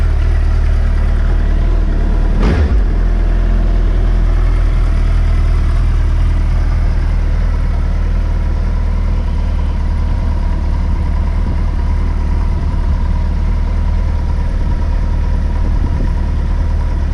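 A 2020 Suzuki Hayabusa motorcycle idles steadily after a cold start, a constant low engine rumble held throughout with one brief sharp click early on.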